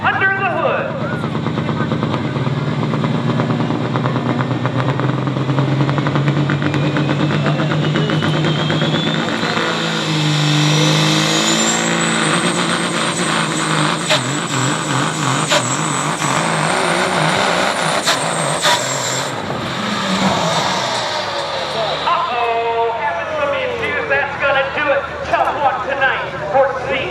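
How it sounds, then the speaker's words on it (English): A 1978 Peterbilt semi truck with a Caterpillar 3406 engine roars loudly at a truck and tractor pull in Alliance, Ohio, its rising whine climbing and holding through the run while an announcer talks over it. "a Caterpillar 3406 engine under the hood"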